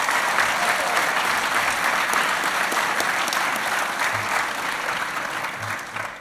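An audience applauds a graduating fire and rescue recruit class, a steady, dense wash of many hands clapping that carries through the whole stretch and tapers slightly at the end.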